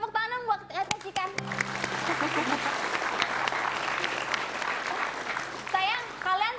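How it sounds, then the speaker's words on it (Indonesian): A studio audience applauds Cikan on a television talk show, a full burst of clapping that swells after a voice and fades as someone speaks again near the end. "Tepuk tangan buat Cikan."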